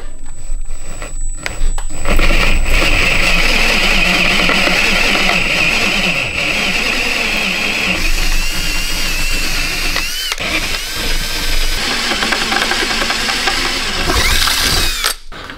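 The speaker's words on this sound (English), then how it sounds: "These holes are pretty scary to drill because the glass is in there." Power drill boring holes into a Peterbilt 379 truck body near the glass, a loud steady whirring grind with ratcheting mechanical chatter running almost continuously, briefly stopping and restarting.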